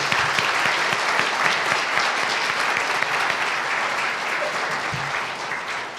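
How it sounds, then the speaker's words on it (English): An audience at a candidates' forum claps steadily for the panel of candidates, a dense, loud round of applause that holds for about six seconds and thins slightly at the end. "Let's give them all a round of applause."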